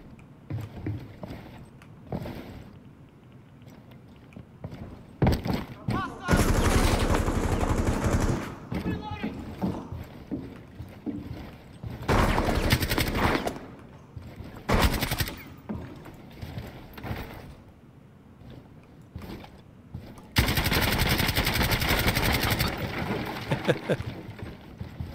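A gun in Rainbow Six Siege fires several loud bursts of rapid automatic fire, separated by quieter gaps of mechanical handling sounds and background noise.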